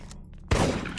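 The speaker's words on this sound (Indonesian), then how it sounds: "kali ini mungkin gue pakai shotgun aja ya" A single shotgun blast in The Last Stand: Union City video game, one sharp loud boom with a short trailing decay after a quiet moment.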